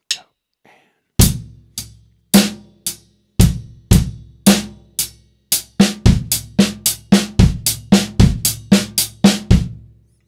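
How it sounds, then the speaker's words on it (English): A drum kit plays one measure of a rock beat with kick, snare and hi-hat, then breaks into a quicker linear fill of single alternating hits, loud and close with a few sparse strokes before it starts. "I'm going to do one measure of a rock beat and then do this linear fill."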